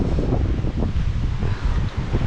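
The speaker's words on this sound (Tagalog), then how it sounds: "Di siya ganong sobrang laking alon, pero high tide." Ocean waves at high tide roll in under steady wind noise, a dense continuous wash of surf with no talk.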